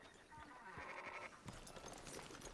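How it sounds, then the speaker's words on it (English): Sheep on a ranch in the Red Dead Redemption 2 video game bleat in a short wavering call, faint and in the background, followed by a shuffle of other ambient game sounds. "Fine sheep."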